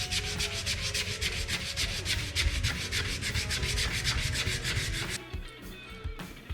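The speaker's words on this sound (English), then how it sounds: "Now I'm going after it with my 6-inch DA sander, and that's got a 80 grit pad on it too." A 6-inch DA sander with an 80 grit pad working over a carved electric guitar neck, giving a steady rhythmic rubbing and sanding rasp up close for about five seconds before it cuts off and trails into quieter handling noise.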